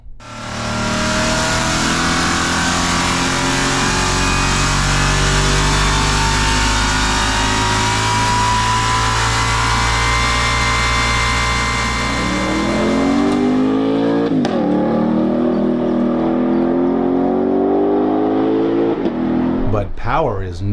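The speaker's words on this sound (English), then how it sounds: "listen to the GTD's isolated engine running full acceleration on a dyno." The 2025 Ford Mustang GTD engine runs at full acceleration on a dyno, a loud, sustained roar that climbs steadily in pitch, then drops off with sharp gear-change blips and revving near the end, with no talk.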